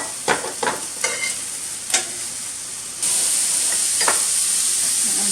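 Raw chicken pieces sizzling as they brown in a pan for canning, with several sharp stirring scrapes early on, then a steady, louder hiss of frying that fills the rest of the clip.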